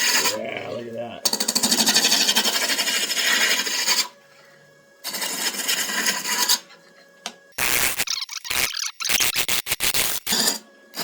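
Wood is turned into a vase on a lathe, with harsh scraping and rasping as the tool cuts, loud sustained bursts broken by pauses and rapid short scrapes near the end.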